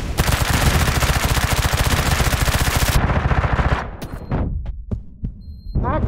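Rapid, loud automatic gunfire in the shooter game Undawn during a PvP Blockade match, a dense burst of shots for about four seconds, then a few scattered sharp cracks and thuds.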